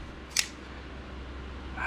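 A single sharp clack from the blade lock of an OKnife Duron pocket knife, close and crisp, standing alone against quiet room tone.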